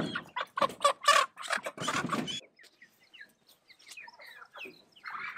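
Broiler chickens held in a dog kennel cluck and chatter in a close, busy burst, then quieter scattered peeps and calls follow.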